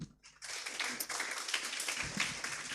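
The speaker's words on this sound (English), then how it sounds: "Please join me once again in giving a warm round of applause to our keynote speaker once again." A conference audience applauds a keynote speaker at an international maritime research conference. The applause rises after a brief pause and holds as a dense, steady, fairly close wash of many clapping hands until the end.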